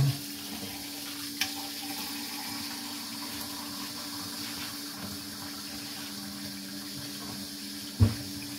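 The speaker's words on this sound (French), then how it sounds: "je vais mettre de l'eau" Water runs steadily into a container during honey preparation, a faint, even trickling stream heard alone, with a small knock near the end.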